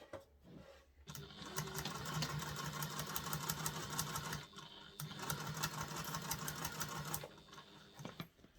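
A sewing machine runs a seam on a diaper bag at a 2.5 stitch length, humming steadily in two long close runs separated by a brief pause, with faint handling clicks at the start and end.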